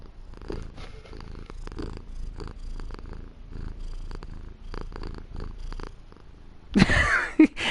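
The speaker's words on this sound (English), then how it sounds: "He's purring right into the mic." A cat purrs right against the microphone, a close, steady rumble pulsing in even breaths throughout, with a louder rustling burst near the end.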